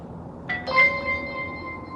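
A Wyze video doorbell's Chime unit gives a short two-tone electronic chime once, clear and moderately loud, then fades over a quiet background.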